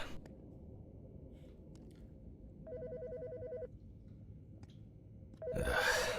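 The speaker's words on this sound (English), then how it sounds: "The fucking phone." A telephone rings in the Autopsy Simulator video game: a short electronic ring burst, a pause, then a second ring joined by a louder rush of noise, with no voices.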